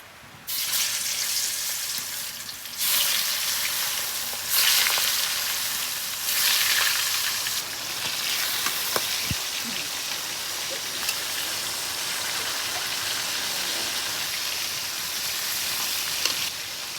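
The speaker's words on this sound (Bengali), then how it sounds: "মাছগুলো কত সুন্দর মাখা হয়ে গেছে এবার তেলে ভেজে নেবে" Pangas fish pieces, coated in salt and turmeric, fry in hot soybean oil with a loud, steady, continuous sizzle that swells in waves, with no voices.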